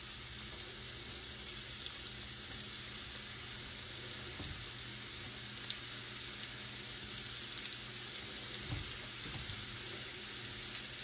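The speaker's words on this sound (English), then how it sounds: "You want it to be frying, but not so fast that the inside doesn't get done" Cornmeal-coated eggplant cubes fry in hot oil, a steady dense crackle and hiss running evenly throughout with occasional louder pops and no voices.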